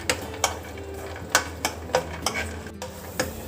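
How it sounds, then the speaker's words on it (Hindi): Peanuts dry-roasting in a pan over a low flame give off sharp, irregular crackling pops, about ten crisp clicks spread over a soft, steady background hiss. "मूंगफली में से आवाज़ आनी शुरू हो चुकी है"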